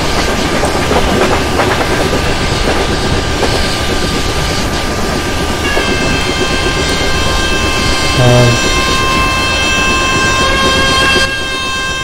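Train wheels clattering over rail joints in the Open Rails train simulator game, a loud steady rumble with rhythmic clickety-clack and sustained tonal hum, briefly joined by a horn-like tone.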